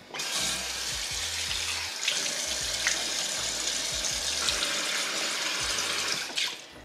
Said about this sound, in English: So we're gonna quickly wash your face with a cleanser, get all that plain gunk off of this.